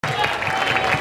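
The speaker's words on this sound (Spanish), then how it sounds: "Un aplauso." Audience applause at a debate-style event, a dense continuous patter of clapping that fills the whole moment at steady loudness, with a faint murmur of crowd voices mixed in.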